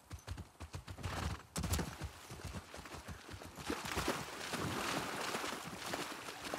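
Horse hooves clip-clop at a steady walking rhythm in The Last of Us Part II, fairly faint and close, with a soft rustling ambience and no talk.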